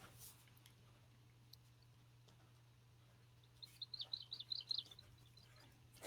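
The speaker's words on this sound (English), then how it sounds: "I can hear the birds singing in your garden, Dinah" In a quiet room with a low hum, a brief burst of high chirps from birds singing in a garden comes in from a distance, faint but clear.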